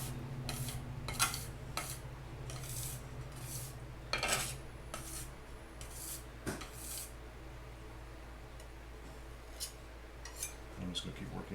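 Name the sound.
palette knife mixing and scraping gesso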